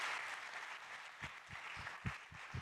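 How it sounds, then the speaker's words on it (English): A startup competition audience applauds after a pitch, giving a steady wash of clapping with a few louder thumps near the microphone. "One more time, a big round of applause to our first pitcher at Livery."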